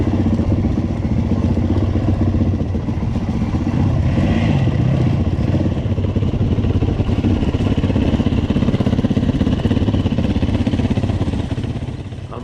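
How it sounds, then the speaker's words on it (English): A Suzuki DRZ400 motorcycle rides along a bush fire trail, its engine droning steadily with rattling clatter and wind rumble, heard continuously from the rider's position. "I'm riding the trusty DRZ400, and it was an unbelievable bike to ride all day"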